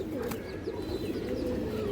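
Black pigeons of an old breed coo steadily in a home loft, a low, continuous throaty murmur from several birds close by with no talk.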